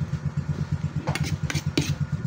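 Motorcycle engine with a punctured exhaust pipe idles close by with a rough, steady putter, broken by a few sharp hissing bursts of escaping exhaust.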